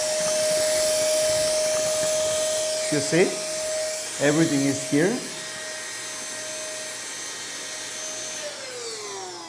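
High-power cordless car vacuum cleaner running with a steady whine and a sustained tone, then winding down near the end, while a person talks briefly over it in the middle.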